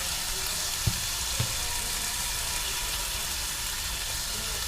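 Sausage sizzles in a frying pan for a home breakfast, a steady broadband hiss of hot fat running throughout with a couple of brief pops near the start, close and fairly loud with no talking.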